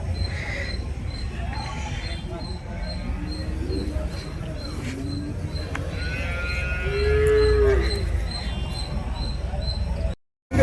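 A cow moos several times at a cattle market over a low rumble of background noise, with one long, louder low call near the end.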